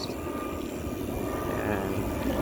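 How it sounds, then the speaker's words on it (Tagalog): An airplane passes overhead on a Saturday morning ride through a memorial park in Taguig, a faint steady aircraft drone heard from a distance under broadband road and wind noise. "Oh, aeroplano uli guys."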